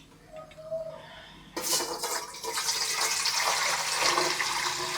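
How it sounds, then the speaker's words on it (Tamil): Water pours suddenly into an idli steamer pot in a home kitchen, a loud, splashing gush that starts abruptly after a quiet moment and keeps flowing steadily to the end. "தண்ணியை ஊற்றிடுவோம்."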